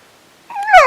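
A voice imitates a puppy's yelp, a single rising whimpering squeal arriving after a quiet stretch, close and fairly loud, no other talk.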